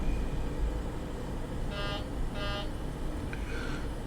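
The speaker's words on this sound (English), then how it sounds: "The beep beep sound that you hear, if you push the throttles up too much to get it to start rolling, you get this warning" Throttle warning beeps in a PMDG Boeing 737-700 flight simulator, two short repeated tones sounding over a steady low engine rumble, followed by a fainter third beep.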